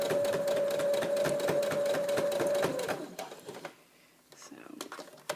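A sewing machine stitches a seam over the ear of a memory bear, its rapid needle chatter running steadily for about three seconds before stopping, followed by quieter handling sounds.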